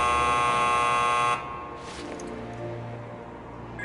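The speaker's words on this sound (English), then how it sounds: "A buzzer, I think." In the Mobius Final Fantasy game a loud, harsh electronic buzzer drones steadily, then cuts off abruptly, leaving a low hum and faint rustling behind.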